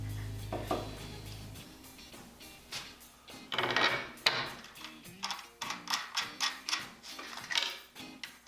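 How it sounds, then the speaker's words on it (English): A clamping jig ratchets tight on glued maple and walnut cutting-board stock, with a low mechanical hum, then a run of quick clicking, ticking and wooden knocks, close and fairly quiet. "You can see I'm using my clamping jig here."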